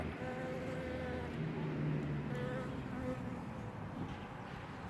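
A continuous insect drone of bees buzzing around mallow flowers, several overlapping hums shifting in pitch as they hover nearby, alone without speech.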